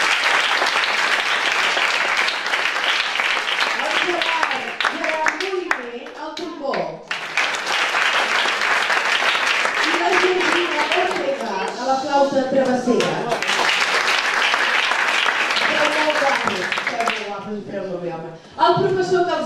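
An audience claps long and loudly after a music school chamber group is introduced at a celebration in Esparreguera, dense sustained applause close by with voices and cheers breaking through now and then.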